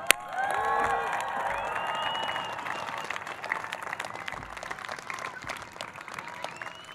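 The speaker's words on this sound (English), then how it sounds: "Congratulations, a round of applause." Applause from a crowd at a Columbia Engineering graduation Class Day ceremony, a dense steady clapping wash with a few faint cheers, holding at moderate volume for several seconds.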